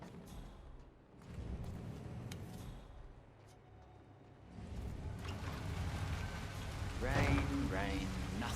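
Steady rain falls in a Hitman 3 game scene, a continuous hissing wash with heavier patches, while voices talk over it toward the end.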